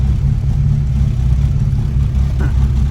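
A car engine running during a test drive, a low steady drone with slight rises in pitch, heard from inside the vehicle and loud, with no talking over it.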